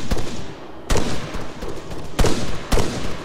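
Gunfire in an Arma 3 firefight: sharp, loud shots arrive in uneven clusters, a few sudden reports with short gaps between bursts, close and alone with no talking.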